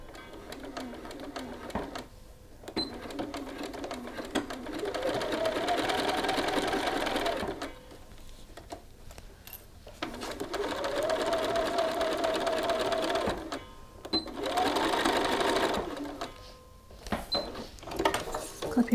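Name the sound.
sewing machine stitching a shirt cuff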